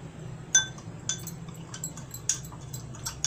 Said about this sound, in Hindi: मिक्स कर दीजिए।